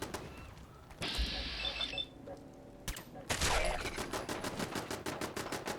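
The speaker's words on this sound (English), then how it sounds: "Turrets shooting at ghouls." Automated turrets firing on ghouls in Fallout 4: a few scattered shots at first, then a dense, rapid stutter of gunfire that continues steadily to the end, fairly close and loud.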